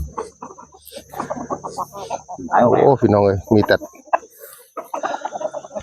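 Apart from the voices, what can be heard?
fighting roosters clucking in a farm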